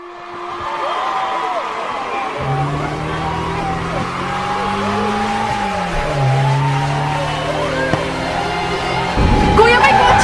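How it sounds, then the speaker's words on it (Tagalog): A car drives past and skids, with engine tones rising and falling and a brief tire squeal, fairly loud and close, while people shout and talk in the background. "Kuya, may kotse!"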